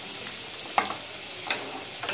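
Potato cutlets with chicken filling shallow-fry in a little oil, giving a steady close sizzle with a few soft crackles and light scraping taps, no talk.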